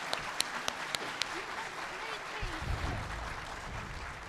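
Applause from a seminar audience for a foreign-policy panel fills the room, steady and moderately distant, with a few sharp taps early on and a voice briefly heard under the clapping.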